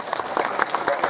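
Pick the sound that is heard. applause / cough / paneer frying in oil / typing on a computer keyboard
applause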